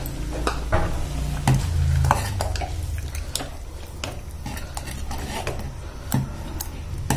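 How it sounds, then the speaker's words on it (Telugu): Fried dry fruits tipped into bubbling melted jaggery for rice and moong dal payasam and stirred in a pan, with steady scraping and clinking of a spoon against metal over a faint sizzle. "ఇప్పుడు మనం వేయించి పెట్టుకున్న డ్రై ఫ్రూట్స్ అన్ని వేసేసుకోవాలి."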